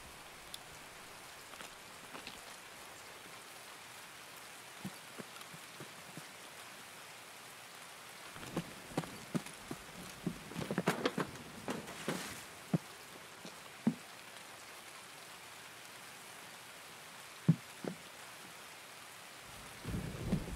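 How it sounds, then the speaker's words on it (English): Steady rain hisses across the whole stretch in a video game on a shoreline map, with scattered louder patters and a few thunder-like crackles midway, no talking. "One advantage is that it's raining, which means people have a hard time hearing."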